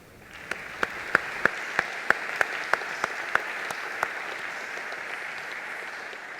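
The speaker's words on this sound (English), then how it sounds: "And just now a round of applause, please" Sparse, scattered hand claps from a small audience at a peace ceremony, about a dozen distinct claps over a quiet background hiss, fading out after a few seconds.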